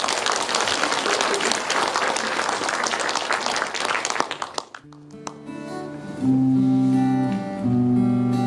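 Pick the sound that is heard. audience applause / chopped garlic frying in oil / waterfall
audience applause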